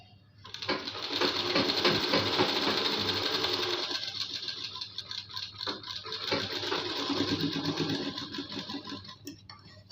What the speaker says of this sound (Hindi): अब इस गले को ऐसे पलट देनी है ये, और इसके ऊपर से किनारे किनारे एक एक सिलाई लगानी है।